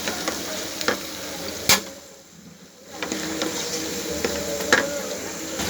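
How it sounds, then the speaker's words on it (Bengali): Spices and ingredients sauté in a pan ahead of liver being added, giving a steady sizzle with sharp stirring clacks against the pan; the frying drops away briefly midway before resuming. "এবার আমি এগুলোকে একটু সামান্য ভালো করে মোটামুটি একটা পরিমাণ সময় নিয়ে এগুলোকে আমি একটু কষিয়ে নিব"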